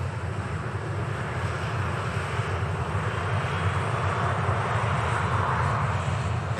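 An Airbus A320 jet sits lined up on the runway at Manchester Airport, engines running in a steady, even drone that stays level and unbroken, with light wind noise and no voices.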